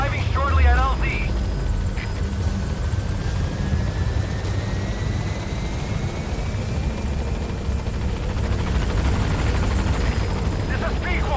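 Helicopter arriving at a landing zone in Metal Gear Solid V: The Phantom Pain, a steady, loud rotor drone throughout with game beeps and radio-style voices over it.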